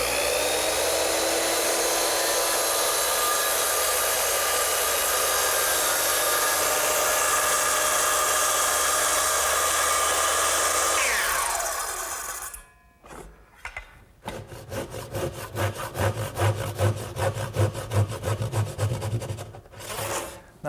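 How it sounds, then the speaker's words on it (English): Circular saw ripping wood along a straight edge with a gauge block for a Shaker step stool: a loud, steady high whine with harsh cutting noise for about twelve seconds, then it cuts off and winds down, followed by a rapid rasping, sawing-like scrape. "Now to make the vertical or the rip cuts, I use the same gauge block, straight edge, and my circular saw."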